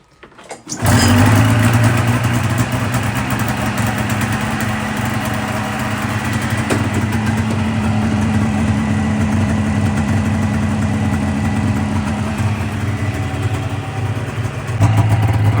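A Polaris 550 RMK snowmobile engine starts and then idles steadily and loudly up close, a continuous two-stroke drone that runs alone for the whole stretch with no talk.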